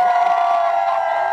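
Crowd gathered at an outdoor watch event for the Women's World Cup, with Team USA facing Portugal, cheering and shouting in a steady, loud, sustained roar.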